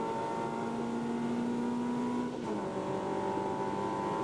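A race car at full throttle going round the circuit in 1990 British motorsport, a loud sustained engine drone from on board that dips briefly midway as the pitch shifts down.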